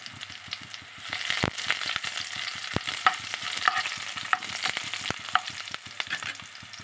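Curry leaves hit hot tempering oil in a pan with broad beans, giving a steady close sizzle and crackle. Spatula stirs and clinks break through the fizz, and there is no speech.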